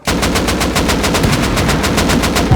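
Loud, continuous rapid-fire machine gun bursts in the video game Rust, with a steady rhythm, close and dominant, with no talking.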